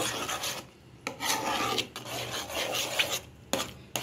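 A spoon scrapes and rubs steadily through thickening carrot halwa with condensed milk in a pan, making rough rasping strokes in an uneven rhythm, close and fairly loud, with no voices.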